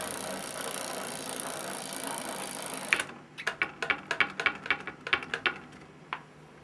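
Vintage road bike wheel spun by hand after a brake cable replacement: a steady whirring hiss that cuts off, then a series of quick ticking freewheel clicks fading out, close by.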